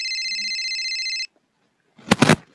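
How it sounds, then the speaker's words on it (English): A phone rings with an incoming call, a steady electronic ringtone lasting just over a second, followed by a pause and then a brief buzzing burst. "Katrina's phone buzzes. It's a call."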